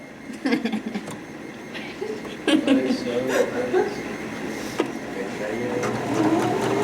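A sewing machine stitches fabric for a ditty bag, its steady mechanical whirring running continuously under people talking nearby, with a few brief clicks and bumps along the way.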